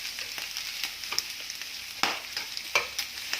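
Shrimp and bitter gourd sauté in a pan with a bright, steady sizzle of oil, broken by brisk stirring strokes and scrapes at uneven intervals, close and clear.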